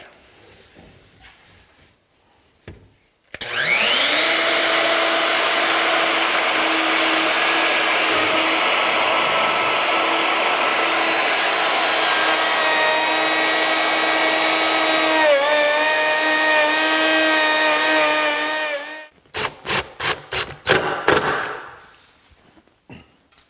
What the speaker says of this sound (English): I'm going to go ahead and route for the T-track